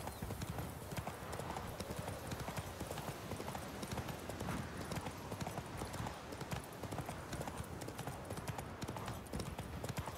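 Steady clip-clop of horse hooves at a brisk, even gait in The Witcher 3 video game, loud and continuous for the whole stretch, with a faint whinny-like sound mixed in.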